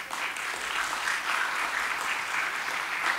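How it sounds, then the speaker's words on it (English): Audience applause for a city mayor at a public speech, a dense, steady wash of clapping that holds evenly for about three seconds with no voices over it. "Let's give a round of applause for our mayor, Mayor Joe Riley."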